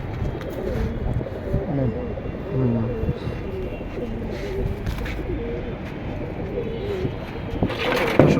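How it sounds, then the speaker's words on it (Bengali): Long-necked Domrai pigeons, a red-marked pair, coo in low repeated rolling phrases throughout, over a busy background murmur of other birds and faint distant voices, with a louder rustle near the end. "দোমরাই লম্বা গলার দোমরাই সুন্দর কবুতর"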